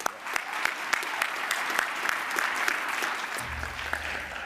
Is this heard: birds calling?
no